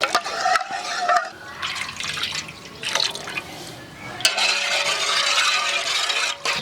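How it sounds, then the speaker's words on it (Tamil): Cornflour stirred into watermelon juice in a bowl for village-style watermelon halwa, a spoon swishing and sloshing through liquid in continuous strokes with light drips, close and moderately loud. "தர்பூசணி ஜூஸ் சேர்த்து கட்டி இல்லாமல் கரைச்சி எடுக்க போகிறோம்"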